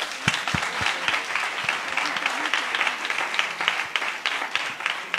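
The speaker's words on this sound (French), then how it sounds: "3, 2, 1, applaudissements!" Applause fills a press conference for the Grand Raid race as the audience claps on cue, a lively burst of individual hand claps with some voices underneath, close and steady for several seconds.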